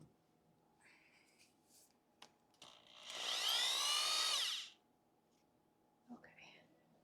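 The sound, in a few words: power drill running to free the drill bit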